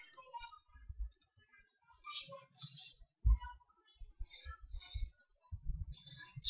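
Keys clicking on a computer keyboard in short, irregular bursts, quiet and close, during installation and setup of Nessus on Kali Linux.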